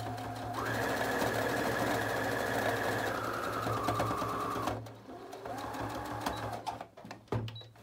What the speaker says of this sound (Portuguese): Agora eu costuro o outro lado.